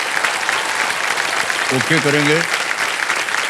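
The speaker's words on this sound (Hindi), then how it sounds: "ताली बज जाए इनके लिए।" A studio audience on the KBC game show applauds loudly and steadily the whole time, dense clapping with a brief spoken phrase heard over it.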